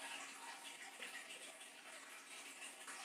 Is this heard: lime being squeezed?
yes